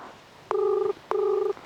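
Two short, evenly spaced electronic ringing tones, like a phone call ringing through on the line, over faint background noise.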